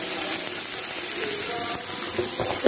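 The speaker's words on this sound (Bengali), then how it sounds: "কালো জিরেটা ফোড়ন দিয়ে এবার কড়াইতে আমি পেঁয়াজগুলো দিয়ে দেবো। পেঁয়াজটা একটু লাল লাল করে ভাজা হয়ে যাবে" Onions fry in oil with black cumin seeds in a kadai, giving a steady, loud, close sizzle that hisses continuously without a break.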